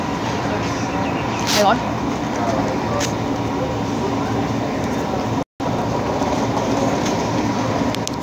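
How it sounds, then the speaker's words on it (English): A train runs along rail tracks as a steady, loud rumble filling the whole stretch, with a brief squeal early on; people talk nearby over the noise. "I'm waiting for the train today"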